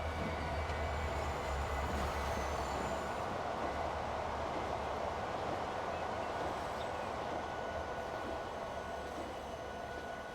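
In the Transport Fever video game, a freight train rumbles past with a steady, dense rolling roar and faint metallic squeals that hold for the whole stretch.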